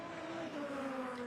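Engine of a GT race car at Brands Hatch entering the pit lane, a steady droning tone with a gently falling pitch, faint and distant under background crowd and track noise.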